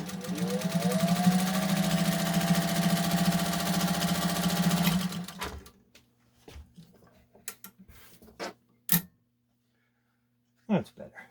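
A restored Singer 201 sewing machine stitching steadily with a smooth, humming mechanical whir for about five seconds, then stopping, followed by scattered handling clicks and knocks.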